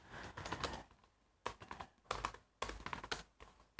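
Quick keystrokes on a computer keyboard while entering text in Open Office come in three short bursts of close, light clicks separated by brief pauses.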